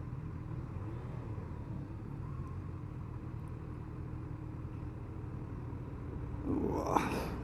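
Motorcycle engine, a Kawasaki Versys 1000 GT or Yamaha Tracer 900 GT, as the rider shifts down into first gear: a steady low rumble heard from the rider's position, with a short louder burst near the end.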